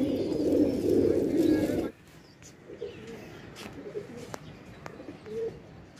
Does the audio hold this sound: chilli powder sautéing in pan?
no